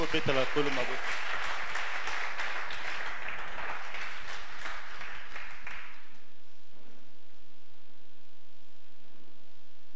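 A church congregation breaks into loud, dense applause and acclamation during worship, the clapping rolling steadily for about six seconds before cutting off into a quiet hum.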